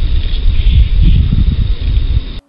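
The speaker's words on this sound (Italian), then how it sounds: "In realtà sembra essere il rumore dei sacchetti della spazzatura mossi dal vento." Plastic garbage bags flap and rustle in the wind near a tower, picked up by a wifi camera microphone as a steady, close, rough rustling with gusty low rumble, lasting a couple of seconds before cutting off abruptly.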